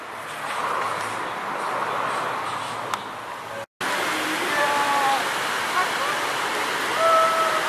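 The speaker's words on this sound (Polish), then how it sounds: "Wisła, rzeka po burzy zamieniła się w jakiś brązowy ściek." Vistula river rushing after a storm, swollen and brown with runoff; a loud, steady broadband roar of flowing water fills the scene, briefly cut off midway, with faint whistle-like tones near the end.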